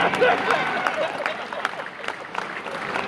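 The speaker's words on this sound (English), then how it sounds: "give him a round of applause right here" Audience applause at a comedy show, steady crowd clapping with a few louder claps mixed in, heard close and filling the whole moment with a faint voice underneath.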